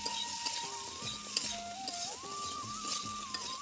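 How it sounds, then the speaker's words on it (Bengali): Flat beans and potato with salt and turmeric frying in a pan, a soft continuous sizzle with faint scrapes, partly covered by a steady tonal whine rising and falling in the background. "একটুখানি করে সবজিটা ভেজে নিচ্ছি"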